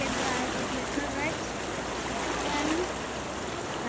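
Close, continuous roar of the Puwa Khola stream flowing, with faint voices barely surfacing under the rushing water.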